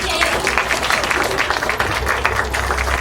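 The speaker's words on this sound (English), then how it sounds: "Give Max a round of applause" Studio audience applauding and cheering for a performer at a live psychic act show, a dense, steady wash of clapping with crowd noise throughout, fairly loud and close.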